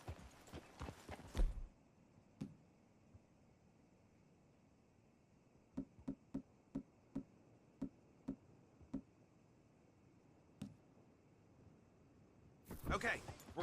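Horse hooves clip-clop in Red Dead Redemption 2 as riders reach a town street outside the sheriff's office: a sparse, faint run of single hoof clops, with louder clattering at the start and end.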